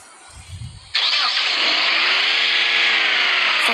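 Car engine starting in a car simulator video game: a brief quiet lead-in, then the engine catches abruptly and settles into a loud, steady idle hum.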